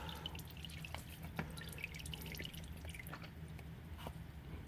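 Old engine oil drains from a 2015 Mazda 3, landing in irregular, close, quiet drips and small splats over a soft background hiss.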